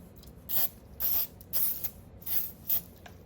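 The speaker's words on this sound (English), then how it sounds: "Let me just spray that a little bit." Lubricant sprayed onto a Kirby vacuum transmission part in five short, close hissing bursts, each about a quarter second long, separated by brief pauses.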